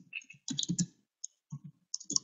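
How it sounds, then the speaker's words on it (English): Computer keyboard keys tapped in short irregular bursts at close range, used to enter data into a code console, with brief pauses between clusters of clicks and no voices. "First I will type the data."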